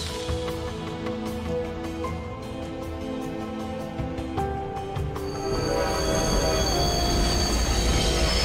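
A monorail ride in the Lost Ark video game, with a steady rolling rumble of the train and a layer of sustained tonal music that swells louder midway.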